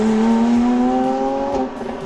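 A Porsche 911 GT3 with a high-revving engine (415 hp, 8,400 rpm redline) revs hard, its bright, rising engine tone climbing quickly and then easing off, loud and close.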